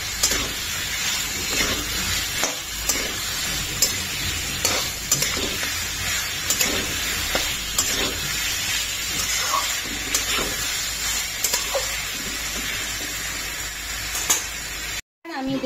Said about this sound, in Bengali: এবার আমি দিয়ে দেবো আলুগুলো। আলুগুলো করে নেবো ভালো করে মিক্স।